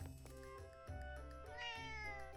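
A cat character meows in The Legend of Zelda: Echoes of Wisdom, a short game voice clip set over a layered, sustained musical backdrop.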